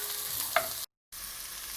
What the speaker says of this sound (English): Onions, carrots, and celery I've sauteed